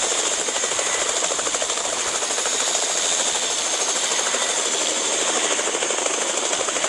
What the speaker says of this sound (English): Get in the chopper. We have a chopper.